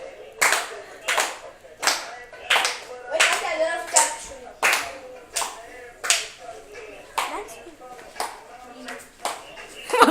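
Children clapping their hands in slow, uneven single claps, roughly one every second, sharp and close, with children's voices and chatter between the claps.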